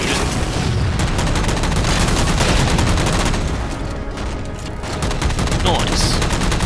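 Dense, sustained automatic gunfire shooting at a jammed hatch to a maintenance causeway in Halo 4, loud and nearly unbroken, with faint voices beneath.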